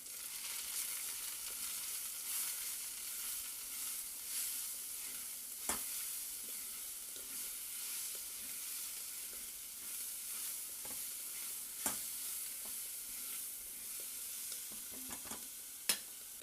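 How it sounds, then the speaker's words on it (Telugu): A spoon scrapes and stirs quietly in a pan of spices with fenugreek powder for coriander chutney, over a faint sizzle, with a few soft clinks and no talking. "ఒకసారి మంచిగా మిక్స్ చేసుకోవాలి"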